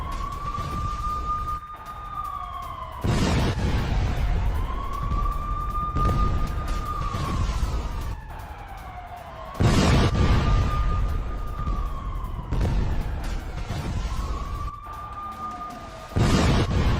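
Rising and falling air-raid style sirens wail in repeated long cycles during an Iranian rocket attack on Tel Aviv, punctuated by several sharp loud bursts, with no speech.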